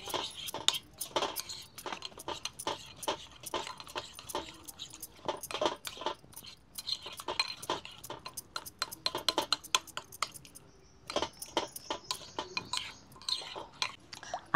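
A spoon clinks and scrapes around a bowl as chili, coriander and cumin powders are mixed together, in a village-style kitchen. The taps come in quick, irregular bursts, close and fairly clear, with a short pause partway through.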